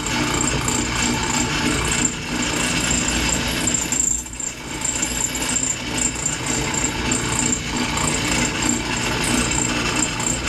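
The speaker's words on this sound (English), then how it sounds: "Going to be drilling a bunch of holes all over." A steady, grinding mechanical whir runs throughout with rattling texture and a brief dip midway, a power drill boring holes into driftwood up close.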